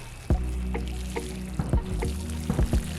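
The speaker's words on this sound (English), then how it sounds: "Then, water it well." Water is poured onto loose soil mixed with sheep manure in a plastic bag seedbed, giving soft, uneven splashes and trickles at low volume, close to the microphone.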